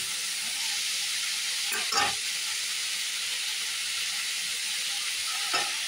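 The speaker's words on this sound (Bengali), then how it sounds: "করলা ভাজাটা আর বড়ি এগুলো দিয়ে দিয়েছি" Fried bitter gourd and lentil dumplings sizzle in hot oil for shukto, a steady close hiss of frying with a couple of brief stirring clinks.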